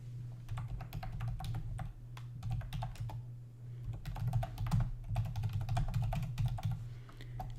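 Rapid keystrokes on a computer keyboard entering a search query, a steady close clatter of clicks in uneven bursts over a low constant hum, with no talking.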